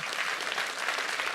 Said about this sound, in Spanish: Y da un aplauso al Señor por su hermano.